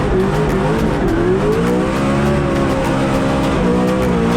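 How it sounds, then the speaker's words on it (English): A Ford Mustang drift car revs hard and close on the start line at a Drift Masters competition in Poland, its pitch rising and wavering in a sustained roar with rapid throttle blips. "Gets the revs built up, ready to go as he comes off the line"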